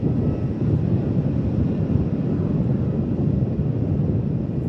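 A Rex airliner taking off at Melbourne Airport, a steady broad low roar that holds throughout at moderate distance, mixed with wind buffeting the microphone, no voices.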